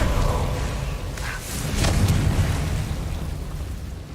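A Confringo spell explosion from Hogwarts Legacy bursts out as a short, loud boom with a rumbling low tail and a bright crackle, over continuous game ambience.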